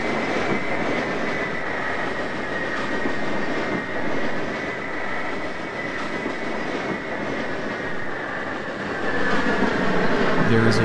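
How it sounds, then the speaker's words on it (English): A local train rumbles steadily and loudly close by as it approaches a station platform, with rattling and clacking from the wheels and carriages throughout, growing slightly louder near the end. "There is a local train approaching the station."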